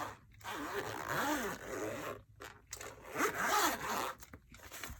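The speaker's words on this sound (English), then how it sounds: "It has the zipper." The zipper of a black Filofax Saffiano compact zip organizer is drawn in two long, close, scratchy pulls, separated by a short pause, with no talk.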